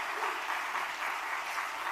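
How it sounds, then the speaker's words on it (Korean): A church congregation at a united evangelism seminar gives a round of applause, dense and continuous clapping from many hands that keeps up evenly throughout. "하나님께 영광의 박수 한번 올려드리도록 하겠습니다"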